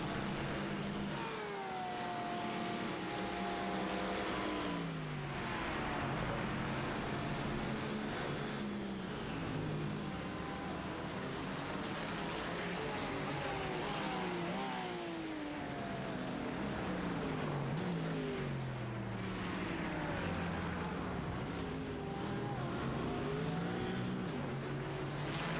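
Mercedes and Ferrari GT race cars at Spa roar past in a continuous loud stream, engines rising and falling with gear changes and doppler sweeps as several cars pass near and fade away.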